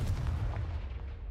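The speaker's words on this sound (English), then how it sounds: "Confringo." Confringo spell cast in the video game Hogwarts Legacy, heard as a short, deep, booming blast with a rumbling low end that fades quickly, alone with no talk.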